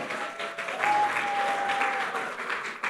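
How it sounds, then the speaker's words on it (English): An awards-ceremony audience claps in steady, sustained applause that fills the room at a moderate distance, with no voices over it. "Big round of applause, please."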